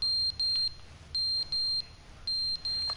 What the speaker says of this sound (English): There's a beeping. The fire alarm is going off.